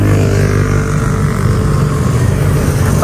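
A motorboat engine runs continuously, loud and close, with a steady droning hum and broadband wash of noise throughout.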